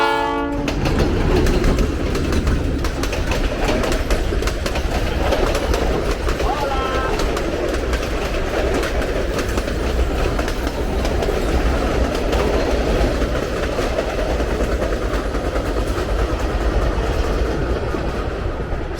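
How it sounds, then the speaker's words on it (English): A train rolls past on the railway line to Machu Picchu near Ollantaytambo, loud and close, with a steady rumble and clickety-clack of wheels on rails and a horn sounding early on, continuing for the whole stretch. "we've got another train coming."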